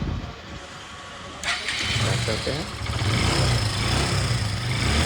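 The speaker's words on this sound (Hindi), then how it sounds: "इंजन वगैरह सब डाल दिए और इसका साउंड वगैरह भी देख लीजिए" A freshly rebuilt Hero Glamour BS4 motorcycle engine is started in a workshop and settles into a steady mid-pitched idle, close and continuous, while someone speaks briefly over it.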